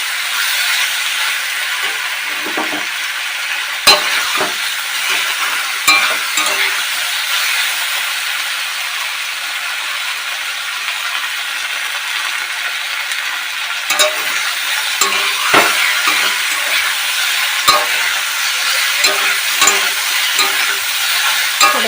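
Soybean and potato curry sautés steadily in a pan with a continuous loud sizzle, and a spoon scrapes and stirs through it at irregular intervals with no voices.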